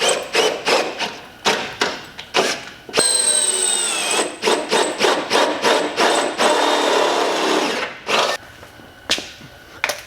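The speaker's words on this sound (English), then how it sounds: "drill me a couple holes in this, break out the jigsaw, zip that out" A power drill whines in a short burst, drilling holes for an airboat build, amid rapid clattering knocks and bumps, close and loud.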